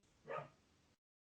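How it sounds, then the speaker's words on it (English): A single short dog bark in the background of a quiet room, brief and moderately faint, with no talking over it. "Excuse my dog barking in the background."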